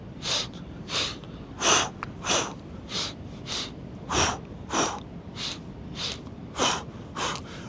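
Steady rhythmic breathing during rope flow, audible breaths in a regular two-in, two-out count, about a dozen distinct puffs over several seconds, close and fairly clear with no talk.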